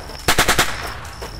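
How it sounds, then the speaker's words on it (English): A short burst of machine-gun fire, four or five rapid loud shots in quick succession, close by during a Marine raid on a base, then a lingering ring and a faint later report. "As the gunfire subsides, Miriam approaches the base while the Marine"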